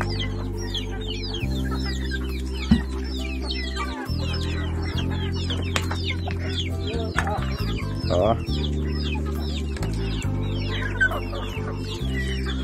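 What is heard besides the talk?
chickens clucking while being fed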